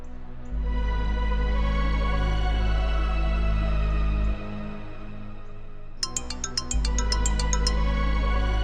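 A phone ringing during a call in a Hindi television drama, a steady electronic ringtone tone that drops briefly then resumes, followed by a quick burst of rapid chiming beeps, with no talking.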